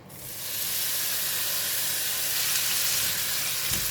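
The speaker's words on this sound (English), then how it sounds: "This will stir fry for a couple of minutes for this mushroom" Shiitake mushrooms stir-frying in a hot pan for taro rice give a loud, steady, close hiss that swells in quickly and holds without a break, with no voices over it.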